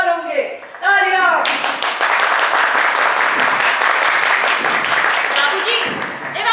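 At a stage performance of the Hindi play 'Hum Kyon Nahin Gaate', a voice speaks briefly before the audience bursts into loud, steady clapping that carries on to the end.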